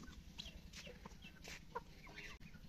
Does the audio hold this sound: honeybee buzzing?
no